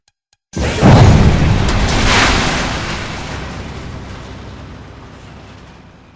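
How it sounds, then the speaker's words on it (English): An animated bomb explosion, heard as a sudden loud deep boom that rolls into a long rumbling roar and slowly fades over several seconds, with no talk. "A bomb! Get behind me!"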